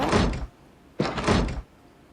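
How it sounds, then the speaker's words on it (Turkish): Two solid door sounds in the Toca Boca game, a closing thunk followed by a second clunk as it locks, each loud and close with a short pause between them and no talking. "Bir dakika şu kapıyı da kilitleyelim."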